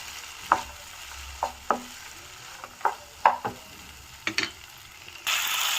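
Chopped tomato and capsicum frying in a pan, a soft low sizzle broken by repeated short scrapes and taps of a spatula stirring, then a louder hiss rising near the end.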